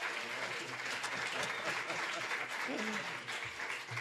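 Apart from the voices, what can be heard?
audience applause for the mayor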